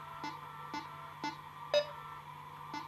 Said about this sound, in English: Try to match it so the green lights blink at the same time as the beep sounds.